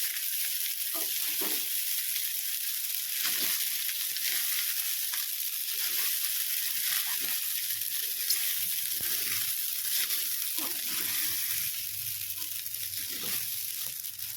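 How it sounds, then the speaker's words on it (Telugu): Kurnool Sona Masuri rice and mixed vegetables stir-fried on high flame for restaurant-style veg fried rice, giving a steady, close, loud sizzle with scattered scraping and tossing knocks throughout. "హై ఫ్లేమ్ మీదనే కలపాలండి దీన్ని."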